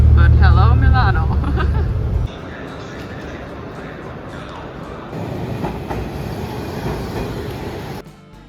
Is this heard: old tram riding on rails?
yes